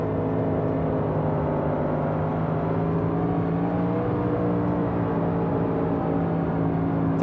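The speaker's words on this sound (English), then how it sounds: "Can hear him driving it in deep here." A 358 modified race car engine drones continuously around the Eldora dirt track in iRacing, a steady mid-distance roar with slowly shifting pitch as the car is driven deep into the corner.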